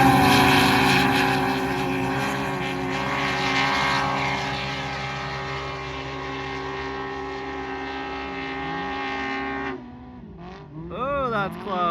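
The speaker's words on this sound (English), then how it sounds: "This right here is a Packard Supercharger against a Welland X3 Turbo," Can-Am Maverick R side-by-sides, one with a Packard supercharger and one with a Welland X3 turbo, racing past at full throttle, a loud sustained high-revving engine whine that fades, followed by a faint voice.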